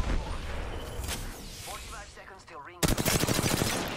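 Rapid weapon fire from the video game Apex Legends, bursts of gunshots near the start, then a dense loud volley in the final second, with whooshing effects between.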